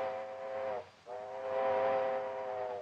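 A steam locomotive whistle on a Western railroad sounds two sustained, steady tones split by a brief gap, the second blast longer, moderately loud and heard alone without talk.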